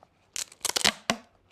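Red duct tape being cut with scissors during a craft project, heard as a few quick close snips and a longer ripping crunch, alone and fairly quiet.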